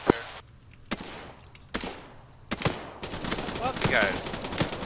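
Bursts of automatic gunfire and single shots from the video game ArmA 3, loud sharp cracks recurring every second or so, then denser rapid fire near the end under faint voices.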